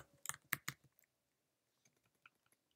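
A quick burst of close keyboard key clicks, then a pause and a few scattered, lighter keystrokes in a quiet room.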